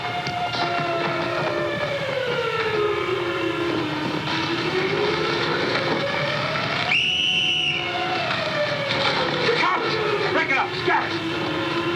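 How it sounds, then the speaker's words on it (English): A newsboy's shrill whistle rises briefly over a dense, steady background of rumbling engines and traffic-like noise, with gliding tones throughout, suggesting a dramatic old crime film scene in Canyon City during a manhunt. "Even a newsboy's whistle means danger."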